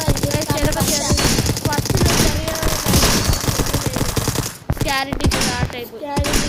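Rapid gunfire from the video game Dude Theft Wars rattles in dense bursts, loud and continuous, mixed with game sounds and music.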